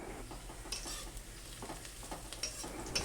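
Chopped onions sizzle and fry in a pan on a home kitchen stove, a steady close crackle broken by a few scraping stirs, with no voices.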